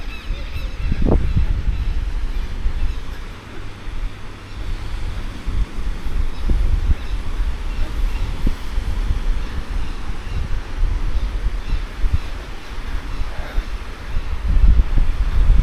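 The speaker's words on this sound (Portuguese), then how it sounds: "Tá ventando um pouquinho mais forte." Strong wind gusts at Praia do Forte beach in Florianópolis, a steady loud rumbling roar of wind buffeting the microphone throughout, with no talk.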